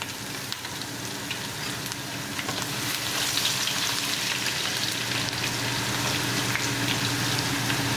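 Cumin seed, ginger and garlic fry in a pan with a constant close sizzle that swells louder partway through, with faint clinks of stirring.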